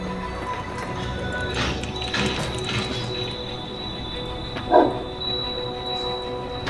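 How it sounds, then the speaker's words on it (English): A dog barks a few times in the game Path of Exile, short sharp barks in the middle and a louder single bark near the end, over a steady game background with no talk. "I hate it when he barks."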